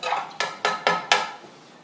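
Metal spoons tap against coffee cupping cups in four quick, bright clinks at an even rhythm, close and clear, each ringing briefly before fading.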